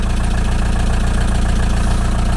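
A VW T3 camper's engine ticks over at idle after a turbo replacement, a loud close rhythmic chugging with an even, rapid pulse and steady low rumble throughout, no voices.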